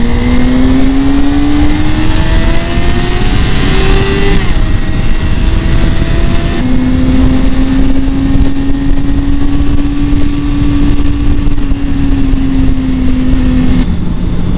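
Suzuki GSR400 motorcycle engine revving hard inside a highway tunnel, a loud continuous drone whose pitch climbs steadily, dips at a gear change, then holds high again, echoing off the tunnel walls.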